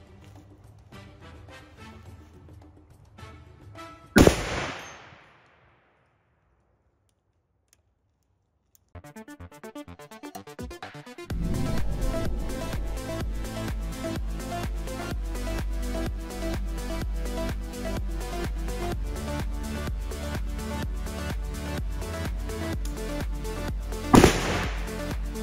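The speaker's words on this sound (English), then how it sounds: "We're only gonna shoot a couple rounds at it, and then we'll go down and see what it did." Two sharp, loud blasts from a .50 BMG rifle firing MK 211 Raufoss rounds at an AR500 steel target outdoors, about twenty seconds apart, with busy mechanical clatter and rumble filling the gap between them.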